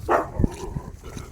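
A dog barks once or twice beside a village road leading toward Gaichi Wadi, short sharp yelps close by, followed by a few faint softer sounds.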